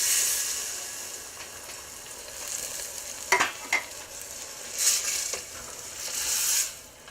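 A spoon stirs crushed and diced tomatoes into elk and butter bean chili in a pot, giving soft scraping and wet squelching over a steady low sizzle, with a few louder scrapes near the middle and end.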